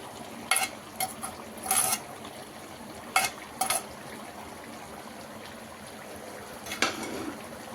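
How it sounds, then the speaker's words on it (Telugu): A spoon stirs boiled gongura leaves into a chicken curry in a pan, giving short scraping and clinking strokes at irregular intervals over a soft simmer. "వేసి అన్నీ ఒకసారి మంచిగా మిక్స్ చేసేసుకుందాం."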